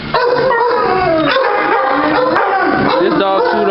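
Dogs at an animal shelter bark, yip and whine loudly and continuously, with howl-like tones mixed into a busy, close chorus while people talk over them.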